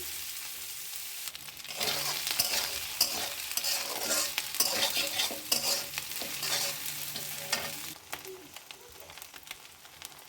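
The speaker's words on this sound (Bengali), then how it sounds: "আমি তেলে আগে পাঁচ মিনিটের মতো কড়া করে ভেজে নিব কাঁচা গন্ধ দূর হয়ে যাবে" Loitta dried fish fries in hot oil in a pan, sizzling loudly and crackling, with repeated scraping stirs of a spatula close by and no talk.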